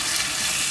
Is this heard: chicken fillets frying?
yes